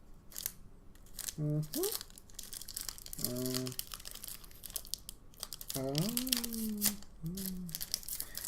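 The crinkly plastic wrapper of a Magic: The Gathering Theros booster pack is torn open close by, with repeated crumpling and rustling while a voice talks briefly in between.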